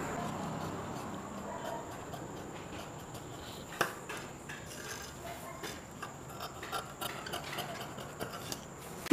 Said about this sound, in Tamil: இப்போ இந்த ஸ்லீவ் கட் பண்ணிடலாம்.